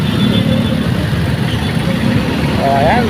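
A motorcycle engine idles steadily on a flooded street during a high tide, a close, constant low mechanical rumble with a voice speaking faintly over it near the end.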